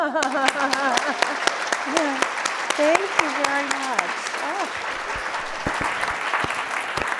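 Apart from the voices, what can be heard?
applause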